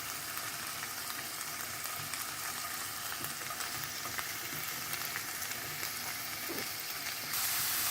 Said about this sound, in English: So after that sautés a little bit more, I will add the vegetables.